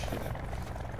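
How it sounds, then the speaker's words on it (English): A helicopter in Call of Duty: Black Ops 4, its steady rotor thrum filling a brief moment of gameplay, fairly close and continuous. "Hey, we should take that chopper, though."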